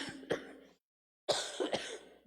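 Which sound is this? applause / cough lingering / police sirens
cough lingering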